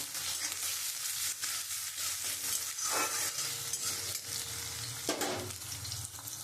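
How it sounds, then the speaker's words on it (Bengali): Onion and ginger fry in hot oil, giving a steady, close crackling sizzle with occasional scraping stirs that swell briefly over the constant hiss. "আমি ওর মধ্যে আদাটা দিয়ে দেবো, দিয়ে আমি একটুখানি লাল লাল করে একটু ভেজে নেব।"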